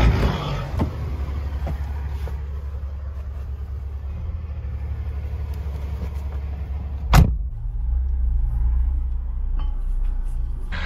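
Idling trucks and vehicles wait in line at the Panama border bridge, a steady low engine rumble running throughout with a brief louder burst partway through, and no talking.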